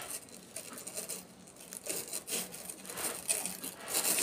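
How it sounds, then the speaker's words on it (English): Turning and flexing an adjustable sanding block produces faint, close scraping and rubbing bursts in an irregular rhythm, with no speech over them. "this is an adjustable sanding block, and what you can do with this is by turning this"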